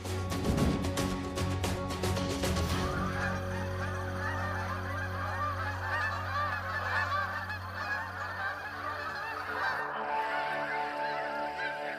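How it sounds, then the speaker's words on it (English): Large flocks of sandhill cranes and snow geese call in flight over Bosque del Apache National Wildlife Refuge, a dense continuous chorus of honks and trilling calls, loud and layered, with a burst of clicking at the start. "Sandhill cranes and snow geese blot out the sky in Bosque del Apache National Wildlife Refuge."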